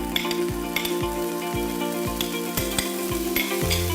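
Carrots fry with onions in vegetable oil, giving a steady close sizzle broken by regular rhythmic stirring scrapes of a utensil against the pan, with no talking.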